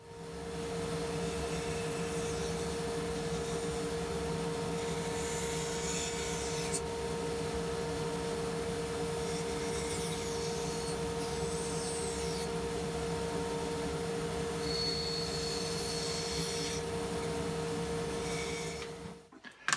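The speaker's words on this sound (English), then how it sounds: "freehand on the bandsaw" A bandsaw cuts wood freehand for prop tree stumps in a workshop, giving a continuous loud drone with a steady motor hum and a grinding rasp that run for the whole stretch before cutting off.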